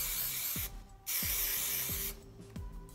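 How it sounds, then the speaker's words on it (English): Fast tack adhesive aerosol sprayed onto a card in short bursts: two long loud hisses separated by a pause, with faint clicks and thumps beneath, close to the microphone and with no talking. "you want to make sure that you spray all the card"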